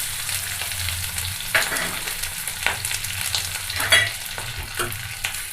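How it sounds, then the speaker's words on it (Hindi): Chopped onions frying in a pan with oil, cumin and bay leaf, a steady close sizzle broken by occasional scraping stirs, with no talking. "तो जब तक प्याज भून जाते हैं"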